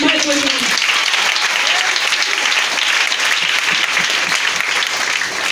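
A church congregation gathered for a Christmas seminar bursts into loud, sustained applause. Clapping fills the room steadily and close, with voices mixed into the crowd noise.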